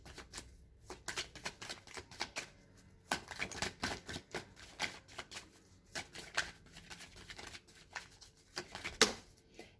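Tarot cards are handled and shuffled up close in quick, papery riffles and soft flicks that come in irregular bursts, quiet and with no talking.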